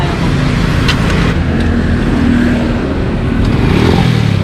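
Motorcycle engine running after a repair on a roadside trip to work in Makati, a loud close steady idle with clattering mechanical tone throughout.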